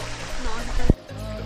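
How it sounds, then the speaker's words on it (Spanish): Small waterfall of thermal water at Cerro de la Silla, a steady broadband rush of flowing water with a brief loud splash near the middle, continuing softer afterward. "esto fue un video así de, la cascadita, la mini cascada, mini jacuzzi"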